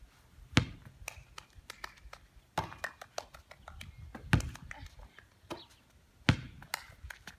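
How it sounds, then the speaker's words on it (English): Hands clapping in quick bursts of several sharp claps, with louder single claps marking a ball caught between rounds during a homeschool PE game of clapping before catching a tossed ball, faint background noise between bursts. "Try and beat 10 claps before you catch it"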